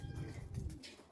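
Pet flying pigeons give soft, low coos near a loft, murmuring close by for a brief moment, faint and with no voices.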